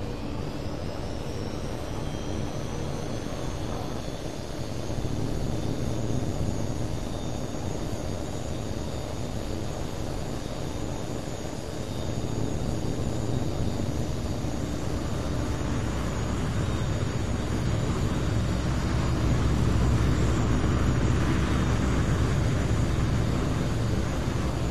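Jet aircraft taking off in the combat flight game H.A.W.X. 2, a sustained loud engine roar with whining high tones that builds steadily as thrust increases, no voices over it.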